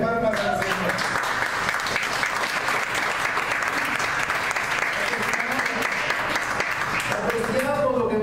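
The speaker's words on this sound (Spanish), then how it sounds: "Debe una ofrenda de palmas al Señor." Congregation applauding as an offering of palms to the Lord during a church sermon, steady dense clapping throughout, with voices audible underneath at the start and end.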